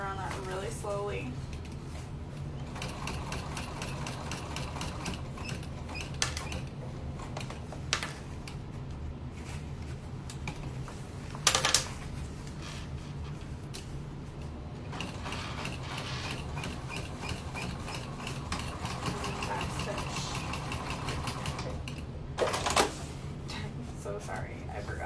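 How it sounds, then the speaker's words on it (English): A sewing machine stitches slowly around a snap on a slouchy tote bag, its needle mechanism ticking in a steady mechanical rhythm, with occasional louder clacks and a voice talking over it. "We're just going to sew around that really slowly."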